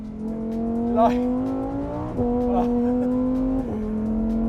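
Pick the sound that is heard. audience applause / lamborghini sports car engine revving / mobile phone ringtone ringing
lamborghini sports car engine revving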